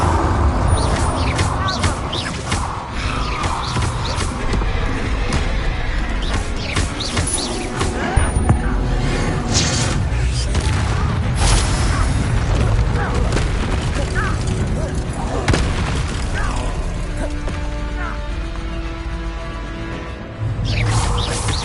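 Bombarda blast spells going off in Hogwarts Legacy on PS5, heavy booming impacts that roll over a busy layer of combat effects and background game sound, steady and loud throughout with some speech mixed in.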